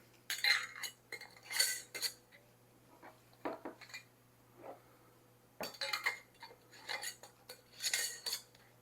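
Metal rings and lids are set onto glass canning jars filled with home-canned chicken, giving a scatter of close, sharp metallic clinks and clatters in irregular bursts with quiet gaps between.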